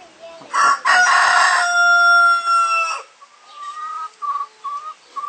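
Rooster giving a loud, close crow with a long drawn-out final note, followed by several shorter clucks and calls as it settles.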